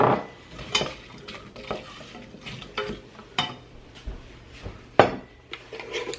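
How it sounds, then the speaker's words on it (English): Chopped, peeled apple pieces cooking in melted butter in a pan, heard as a run of close utensil scrapes and clinks against the pan over a soft, low sizzle. "I'm gonna add that in with this good butter."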